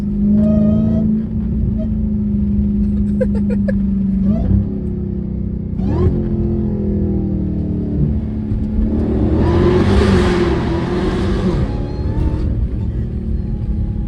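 An 800 hp Hellcat Redeye engine revs and climbs through the gears, rising in pitch, dropping at each shift, then surging loud with a roaring rush.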